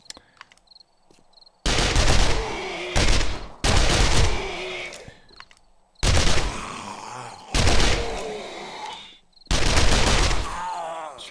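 Gunfire in the zombie survival game 7 Days to Die, heard as loud sustained bursts of rapid shots in several clusters separated by short pauses, with a faint groan between them.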